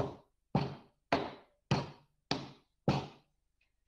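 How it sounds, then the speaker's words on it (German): Six evenly spaced, solid knocks on a wooden door, each a sharp thud with a quick decay, heard close and alone against silence. "ein Klopfen an die Tür"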